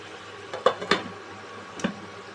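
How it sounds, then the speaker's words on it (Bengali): A pot of bottle gourd on the stove takes a few metallic clanks as a lid is handled and set down, three distinct knocks over a faint background hiss. "এবার এটিকে কিছুক্ষণের জন্য ঢাকা দিয়ে দেবো"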